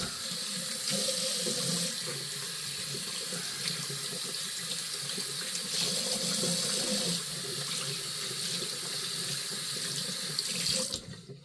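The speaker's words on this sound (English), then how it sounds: "I'm going to wash this brush out so you can see it there." A shaving brush is rinsed under a running tap, with a steady, fairly quiet stream of water splashing into a sink until the flow stops near the end.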